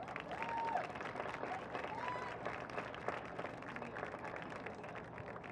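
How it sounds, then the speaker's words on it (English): Audience applause at a women's ultimate frisbee game, Eurostars versus Boston Brute Squad, a broad patter of clapping with crowd noise heard from a distance, fairly faint, with a couple of brief whistle-like tones over it. "give a huge round of applause to folks for coming out"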